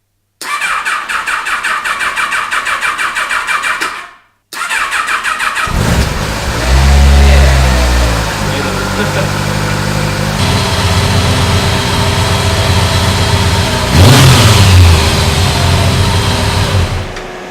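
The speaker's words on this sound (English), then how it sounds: "now the bike was running till the fan turned on" A Kawasaki ZRX 1100 motorcycle cranks on its starter in two tries with a brief pause between, then catches and runs at a steady idle close by, with a couple of louder blips of revving.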